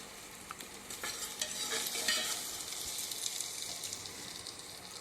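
Cut potatoes frying in a pan for a drumstick and potato curry, a quiet continuous sizzle and crackle that swells briefly, then settles into a steady hiss.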